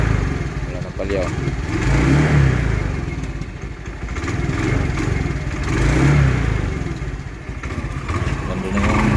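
A repaired motorcycle or scooter, fresh oil and new gasoline in it after a misfiring problem, revs up and down in three swelling waves, loud and close with a rough clattering idle between the revs.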